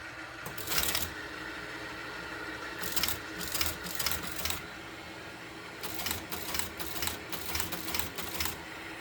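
A Teletype Model 28 with its reperforator in the loop, keys typed in short bursts of rapid mechanical clatter separated by pauses, moderately quiet under a steady machine hum.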